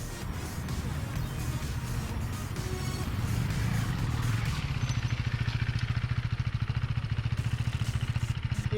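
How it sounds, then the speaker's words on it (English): A KTM RC390 single-cylinder motorcycle rides along with a passenger aboard, its engine droning steadily and then settling into a rapid, even pulsing thrum, heard close with wind noise. "I took my wife for a spin on the RC390"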